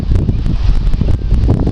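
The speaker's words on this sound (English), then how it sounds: "I don't know if you can hear it, it's quite windy." Gusty wind on a rocky shoreline buffets the microphone in a steady, loud broadband rush with small surges, with no other clear sound standing out.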